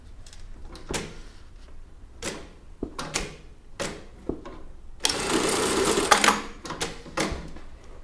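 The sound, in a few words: sewing machine stitching a bartack on a child's top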